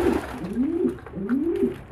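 Pigeons coo nearby in soft, low, rolling calls, two or three phrases back to back over faint background noise.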